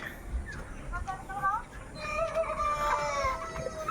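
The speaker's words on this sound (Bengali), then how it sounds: "এদিকে নাকি আরো মুরগির খামার আছে" Chickens at a poultry farm in Manikganj, Bangladesh, cluck and call repeatedly at moderate distance over steady outdoor background noise.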